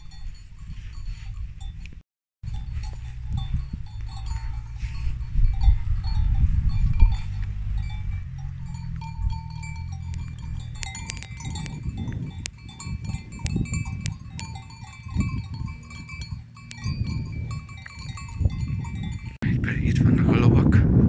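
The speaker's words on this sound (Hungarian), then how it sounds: "szaporán esznek a birkák, Kitti szerint." Sheep graze in a Basque mountain pasture on the Spanish-French border, with the steady munching and rustling of animals nearby and a bell clanking now and then, while people talk over it.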